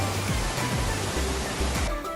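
Sarang Walet waterfall on the slopes of Mount Rinjani roars in a loud, unbroken rush of falling water that fills the short stretch alone.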